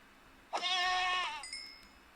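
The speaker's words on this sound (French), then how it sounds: "Une chèvre et des tigres. Alors, je vais m'occuper de cette chèvre." A goat in a modded Minecraft game gives one drawn-out, wavering synthetic bleat lasting nearly a second, loud and alone, with faint game tones trailing after it.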